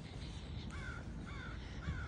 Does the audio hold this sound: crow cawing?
yes